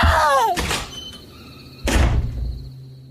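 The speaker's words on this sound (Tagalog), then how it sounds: "Kasabay ng malakas na kalabog ng pinto" A door slams loudly twice as a sound effect, each a heavy whooshing thud followed by a ringing hum that fades.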